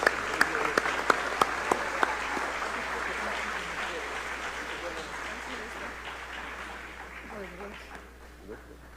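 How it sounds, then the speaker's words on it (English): An audience at a State of the Nation address applauds new citizens, a steady wash of clapping with a few sharp near claps at the start, fading gradually toward the end. "Please join me in giving our new 44 citizens a big round of applause."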